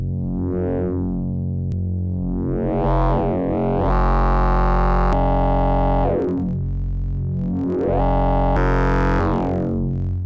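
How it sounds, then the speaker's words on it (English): Buzzy Voltage Lab 2 synthesizer oscillator tones sweep up and down in pitch, harsh and distorted with clipping, with abrupt switches between oscillator shapes and no talking. "you do get different tones from it, from all of the oscillator shapes"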